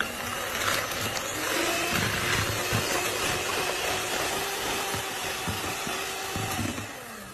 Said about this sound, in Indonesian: Dimixer dengan kecepatan tinggi.